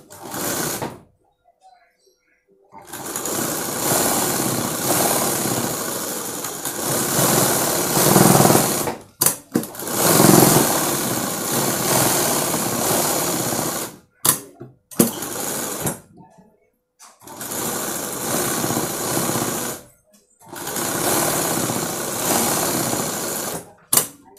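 A sewing machine stitches the back part of a blouse in several long, loud, close bursts of rapid whirring, separated by brief pauses, with a voice talking in between.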